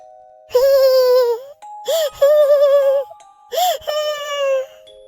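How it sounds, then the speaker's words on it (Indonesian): A woman's crying sound effect in a horror story: three drawn-out, wavering wails rise and fall over a faint steady eerie drone, close and fairly loud. "Tangisan seorang wanita."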